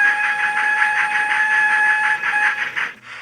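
A Hornby Schools class model locomotive fitted with a J36 TTS sound chip gives a steady, loud electronic engine sound with a rhythmic chuffing pulse and a sustained whistle-like tone, cutting off near the end.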